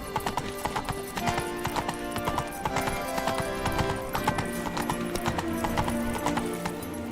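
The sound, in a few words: horse Roach's hooves galloping, from The Witcher 3 video game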